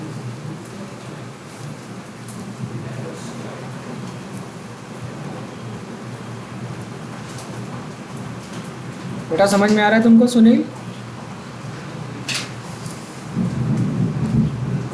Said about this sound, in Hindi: हाँ बारिश हो रही है।